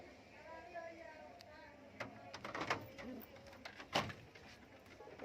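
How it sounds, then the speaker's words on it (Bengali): Soft cooing of Saharanpuri, Sylheti kamagar and teddy pigeons in a loft, low and close, mixed with faint clatter and a couple of sharp knocks, while someone talks over them. "সবাইকে দেখাই, সব উড়ান কবুতর, সব ভালো সাহারানপুরি আছে"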